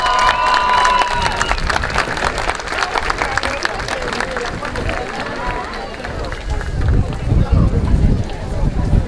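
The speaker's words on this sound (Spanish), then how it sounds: "¡El aplauso para ellos!" Crowd applause and cheering for the Danza de los perros de agua dancers from Ahuehuetzingo, Chietla, at the Atlixcayotontli 2024 festival: sustained clapping and crowd noise swelling toward the end, with an announcer speaking over it.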